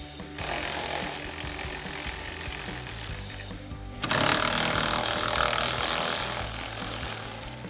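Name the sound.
10mm socket removing headlight bolts on a Sierra 1500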